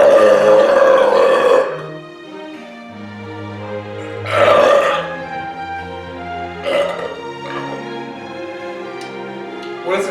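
Loud, drawn-out burps after drinking Miller High Life beer, one long belch at the start and another a few seconds later, each booming close up with rich tonal growl, with quieter voiced sounds in between.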